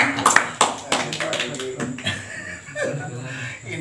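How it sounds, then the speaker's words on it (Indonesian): Brief scattered hand claps from an audience, mixed with chuckling and laughter under ongoing nearby talk. "teman-teman, ini tepuk tangan nih"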